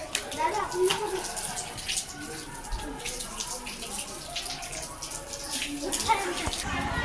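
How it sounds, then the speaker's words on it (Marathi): Tap water splashes and gushes steadily as feet are washed at an outdoor tap by a temple, with people talking over the running water. "तुमचे दाजी पाय धुत आहेत"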